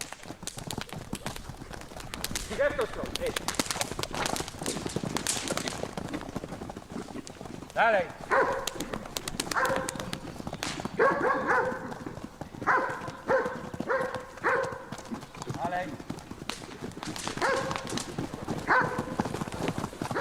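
Konik ponies moving about in Poland, their hooves clip-clopping in uneven bursts at moderate distance, with a dog barking now and then and a voice talking over much of it.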